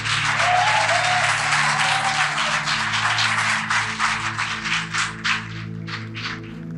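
A church congregation applauds together in a large hall, loud and dense clapping at first that thins into scattered, fading claps, over a low, steady musical hum.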